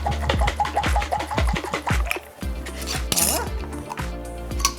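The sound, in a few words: shaking vinaigrette in a lidded jar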